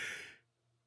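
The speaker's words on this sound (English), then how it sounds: "let that big yawn out" A big yawn lets out a breathy, sighing exhale that is loud at first and fades within half a second, followed by near silence with a faint low hum.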